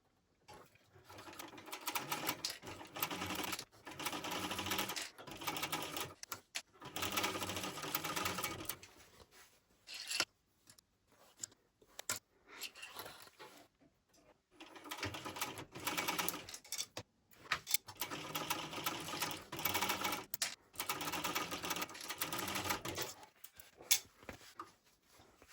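A sewing machine joins the two exterior pieces of a fabric shoulder bag in several close bursts of rapid stitching, separated by short pauses.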